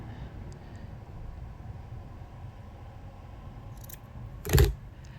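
Scissors cut through folded quilting fabric in a single short, crisp snip near the end, after a low steady background rumble that fills most of the stretch, with no talking.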